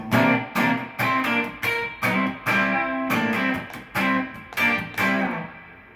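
Electric rhythm guitar sliding on the top two strings, played as a series of about a dozen short, punchy chord stabs in a steady rhythm with bright, slightly distorted tone, close and clear with no talking.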